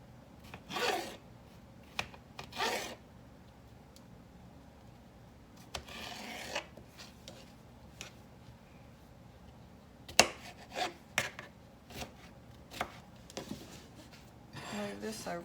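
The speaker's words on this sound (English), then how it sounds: "And then we're going to cut them in real small little dices." A knife dicing cucumbers on a cutting board, heard as scattered short chopping taps and brief scraping rubs, some close and sharp, separated by quiet stretches.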